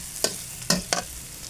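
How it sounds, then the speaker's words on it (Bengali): Garlic and panch phoron spice frying in oil, heard as three quick spatula scrapes over a faint, steady sizzle in the pan, close up with no voices. "রসুন আর পাঁচফোড়ন মশলাটা হালকা করে ভাজা গেলে তারপর এর মধ্যে ছেড়ে দেওয়া হবে আর কি ছোলাটা"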